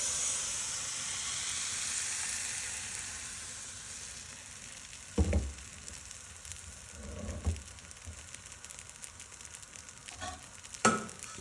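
Appam batter sizzling in a hot pan over a lowered flame, a soft steady hiss that fades gradually, broken by a few brief clanks of the pan and lid.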